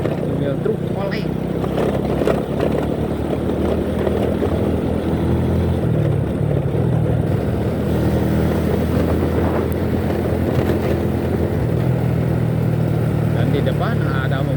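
Truck engine and road noise from a swaying truck on the road, a steady loud rumble throughout with a person talking over it.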